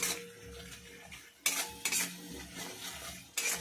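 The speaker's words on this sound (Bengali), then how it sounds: "নুন দিয়ে মশলাটাকে একটু ভালো করে ভাজবো" Spices with salt, turmeric and cloves stirred in a pan, a low steady sizzle broken by several sharp metallic scrapes of a spoon against the pan.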